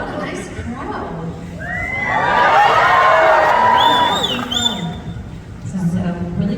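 A convention crowd at the Denver FanExpo 2022 panel cheers and whoops, swelling to a loud peak before easing back into chatter, while a voice speaks near the start and again as the noise subsides.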